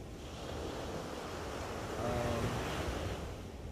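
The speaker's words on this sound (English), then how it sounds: "be relaxed in a sense by the waves as they hit the shore" Ocean waves wash onto the shore in a steady, hissing roar with some wind noise, swelling slightly midway, distant and soft without any voices.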